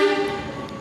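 The Serayu night passenger train running through the Garut mountains, heard as a loud, sustained horn-like tone over the steady rumble of the moving train.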